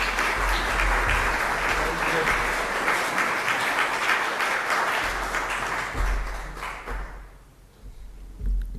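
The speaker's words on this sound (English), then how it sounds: "can we give a round of applause as he comes forward?" Audience applause at a church peacemakers presentation, sustained dense clapping for about seven seconds, then fading out into a quieter room.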